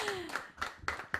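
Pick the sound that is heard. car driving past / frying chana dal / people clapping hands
people clapping hands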